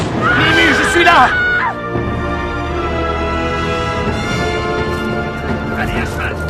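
A horse lets out a loud, close whinny that rises and falls over about two seconds, followed by fainter commotion and movement.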